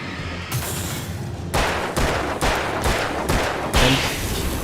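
Gunshots ring out in the video game Alan Wake as an axe-wielding enemy is shot repeatedly. Around six loud, close shots come in a steady, fairly quick sequence, each with a short echoing tail.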